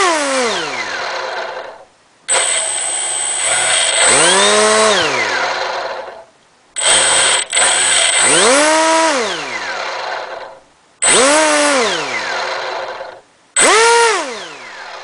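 Two Turnigy outrunner motors driving 6x4 propellers from a single ESC whine loudly in repeated bursts, their pitch sweeping up and down with uneven jittering, separated by short pauses.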